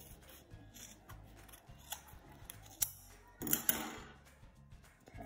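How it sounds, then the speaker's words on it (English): Scissors snipping through wool all the way around a yarn pom pom, a series of crisp, close cuts with a few louder snips near the end and no talking. "I'm going to continue to cut all the way around"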